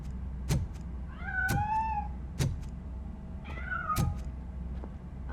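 A cat meows twice, clear and fairly close, with rising-falling cries between a series of sharp clicking mechanical thumps.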